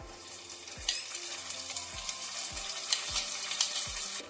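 Chopped green chilli crackles in oil with fried onions for Bengali kabuli polao, a constant sizzle broken by regular scraping strokes of a stirring spatula, close and moderately loud.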